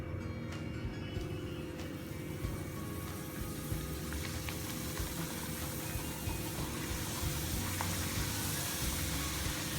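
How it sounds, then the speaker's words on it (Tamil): Constant bubbling sizzle of dough deep-frying in hot oil, steady and close, with a low hum underneath and no talking. "இப்போ இதை நம்ம எண்ணெயில் பொரித்து எடுக்க போகிறோம்"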